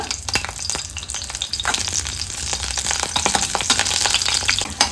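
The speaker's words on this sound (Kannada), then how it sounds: "ತುಪ್ಪ ಬಿಸಿಯಾಗಿದೆ ಮೊದಲಿಗೆ ನಾವು ಈರುಳ್ಳಿಯನ್ನು ಹಾಕಿ ಹುರ್ಕೊಳ್ಳೋಣ" Onions frying in hot ghee in a pan, a close, busy sizzle with crackles and stirring scrapes that grows slightly louder over the stretch, no voices.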